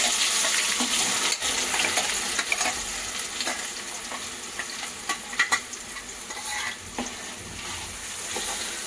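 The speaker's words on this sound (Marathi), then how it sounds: "आपण हा मसाला टाकला आहे आणि हा आता मसाला आपण तेलात जोपर्यंत या मसाल्यात तेल सुटत नाही तोपर्यंत मस्तपैकी भाजून घेऊया" Masala spice paste with garlic sizzling in hot oil while being stirred, a dense steady hiss close by with scraping stirs and clatters, no talk.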